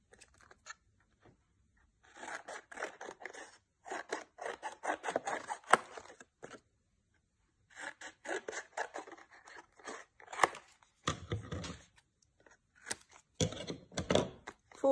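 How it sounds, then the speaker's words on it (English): Scissors snip through paper while a small handmade miniature book is being made, coming as bursts of close, crisp cutting strokes separated by short pauses, with no talking. "And then you just cut it out."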